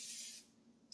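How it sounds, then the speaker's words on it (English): Cooking spray hisses briefly onto glass bread pans, a soft close burst of about half a second followed by a faint second puff. "you have to spray your pans"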